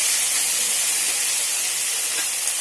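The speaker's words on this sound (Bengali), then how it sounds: "চিংড়ি মাছের মাথাগুলো এর মধ্যে দিয়ে দেবো" Prawn heads frying in hot oil give a loud, steady high-pitched hiss and sizzle that holds evenly throughout with no other sounds.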